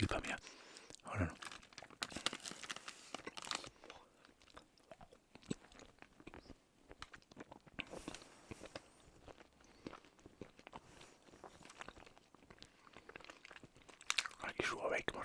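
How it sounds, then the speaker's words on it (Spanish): A crunchy gluten-free snack is bitten and chewed close up, with repeated crisp crunches and crinkling bursts scattered over fifteen seconds amid soft rustling in a quiet setting. "Hay que masticar bien la comida."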